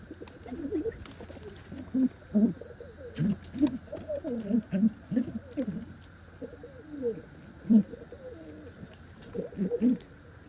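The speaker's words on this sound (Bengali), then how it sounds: "এই যে এইটা হচ্ছে নর কবুতরটা" Male and female domestic pigeons coo repeatedly while being carried out of the house to a new nest box, with close, rhythmic throaty bursts every second or so and no talking.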